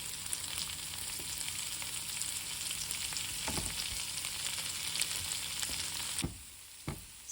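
Sliced leek stir-fries with garlic and ginger in a hot pan, a steady close sizzle running throughout with a few stirring knocks, then dropping off sharply near the end as the pan quiets.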